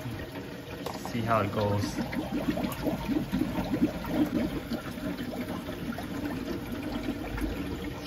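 Water flows through a reef tank sump manifold during a first test run, a steady wash of running water under a voice speaking close by.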